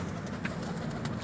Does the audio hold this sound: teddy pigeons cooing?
yes